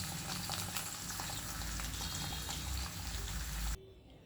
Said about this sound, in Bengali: এবার আমি আলুগুলোকে বেশ ভালো করে ভেজে নেব